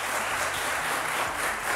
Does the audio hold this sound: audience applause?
yes